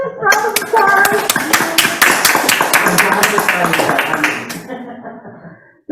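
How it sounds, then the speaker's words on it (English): A small congregation at a Sunday service at a center for creative living claps for about four and a half seconds, dense hand claps over a warm, lively room, then trails off into quiet. "Round of applause."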